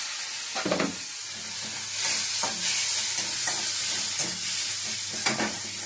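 Hot water goes into a pan of egg curry with potato, setting off a loud, bubbling sizzle and hiss, broken by occasional stirring scrapes and clatter, close up with no talking.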